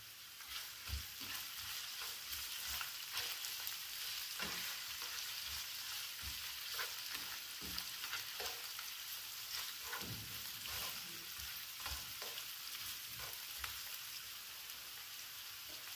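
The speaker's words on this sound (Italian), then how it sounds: "Ora mettiamo un bel giro d'olio in padella e aggiungiamo la cipolla." Onion fries in olive oil in a pan, a dense continuous crackle like rain with scattered pops and occasional soft stirring knocks, close and steady throughout.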